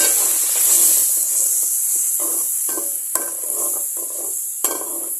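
Tomato paste for a fish curry sautés in a hot pan with a steady bright sizzle, broken by repeated scraping stirs and a couple of sharp clicks of a spoon against the metal.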